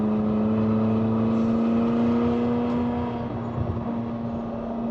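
A McLaren 600LT sports car driving on a highway, its engine producing a steady, close, loud drone with a constant low tone throughout, no voices present.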